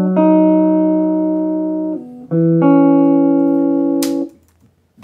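Early recorded guitar track of Honey Babe Let The Deal Go Down, sustained clean electric guitar notes ringing loud and near in two long phrases, with a brief pick scrape before cutting off.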